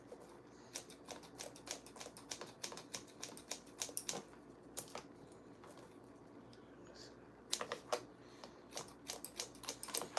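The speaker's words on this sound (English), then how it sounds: "So I'm point cutting it." Scissors point cutting the ends of a wig's hair: quick bursts of small, crisp snips in irregular clusters, close and fairly quiet, pausing in the middle and then resuming faster.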